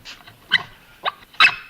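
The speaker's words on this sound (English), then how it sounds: "Sounded like a dog." A dog barks in short, sharp bursts, three or four separate yelps spread across a couple of seconds at moderate distance, with nothing else sounding in between.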